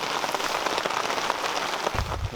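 Rain falling steadily outdoors during a pike fishing session, a dense close patter of drops on surfaces with a low thump near the end, and no talk.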